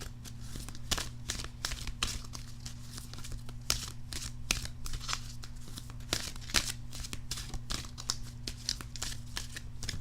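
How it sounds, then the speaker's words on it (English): Oracle cards being shuffled over and over, a steady run of quick papery riffles and snaps, close up, with a low constant hum underneath and no talking. "Both of these decks shuffle amazingly."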